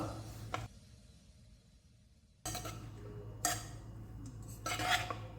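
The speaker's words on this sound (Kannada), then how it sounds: "ಈಗ ಇದಕ್ಕೆ ಅನ್ನ ಮಿಕ್ಸ್ ಮಾಡ್ಕೊಳ್ಳೋಣ. ಎಲ್ಲ ಕಡೆ ಗೊಜ್ಜು ಮಿಕ್ಸ್ ಆಗಬೇಕು." Cooked rice is mixed with raw mango gojju in a pan: soft, quiet scraping and clinking of a spoon against metal in a few short bursts, with a faint low hum beneath.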